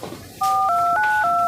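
A telephone number is dialed as a quick run of steady two-tone keypad beeps, loud and close, following a short quiet lead-in with no voices.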